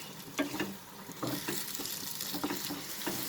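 Spoon stirring fresh coriander into a tomato, onion and egg bhurji in a pan, with repeated soft scraping strokes over a steady frying sizzle, close and moderately loud.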